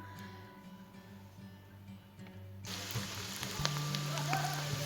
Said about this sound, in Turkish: Soğanlarımız da kavruldu.